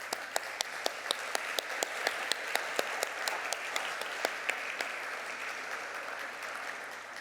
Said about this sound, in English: Please stand up so that we can applaud.